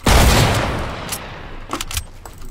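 A burst of loud gunfire in a shooter video game, one sharp shot followed by a decaying rumble and a few softer clicks and cracks, with no speech.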